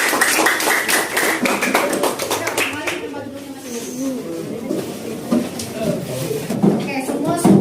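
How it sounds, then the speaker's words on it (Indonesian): Students in a social studies class clap for a presentation, a quick flurry of many hands in the first few seconds that thins out as voices take over and talk continues in the room. "Kita kasih tepuk tangan."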